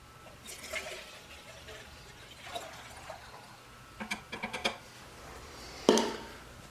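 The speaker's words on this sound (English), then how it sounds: "go ahead and remove the tank from the handheld sprayer and fill it full of your carpet solution" Carpet cleaning solution poured into the tank of a Kirby vacuum's portable handheld sprayer, heard as faint trickling with a few plastic clicks and handling knocks at close range.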